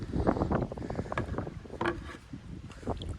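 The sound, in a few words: wind while paddling a canoe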